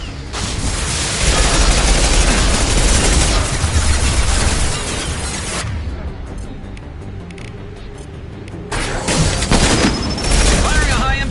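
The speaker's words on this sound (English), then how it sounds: "Firing a high-impact shot." Loud gunfire and explosions from the sci-fi shooter video game Mass Effect 2 crash in dense, continuous bursts, drop into a brief lull, then erupt again.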